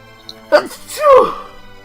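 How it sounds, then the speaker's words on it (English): A single sharp sneeze bursts out close to the microphone during a casual livestream of the Golden Sun video game, followed by a short voiced tail. "it wouldn't be an episode without me sneezing in the middle of it"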